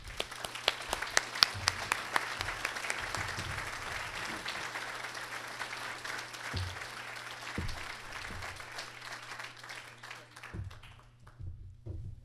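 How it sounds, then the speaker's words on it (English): Warm applause from a crowd at a chamber of commerce awards night, brisk clapping that builds then gradually thins out over about twelve seconds, with a low hum underneath and a few scattered claps trailing off. "Please join me in giving Bruce a well-deserved round of applause."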